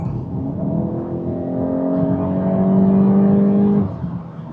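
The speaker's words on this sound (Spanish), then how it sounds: "Suena bien el carro." A 2025 Volkswagen Golf GTI's engine hums steadily while driving in a calm mode, a smooth tonal drone that rises gently in pitch and loudness before easing off, heard from inside the car with no talking.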